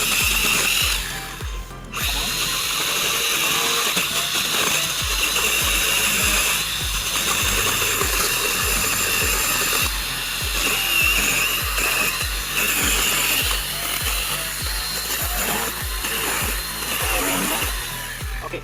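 A Greenworks cordless pole saw cutting through a tree, its motor whining loudly and steadily with a rough, rasping chain bite that continues almost without pause for the whole stretch.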